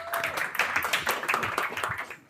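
An audience at a service-themed leadership event in Arizona bursts into sustained applause, dense overlapping hand claps at steady volume for about two seconds before fading, with no speech over it.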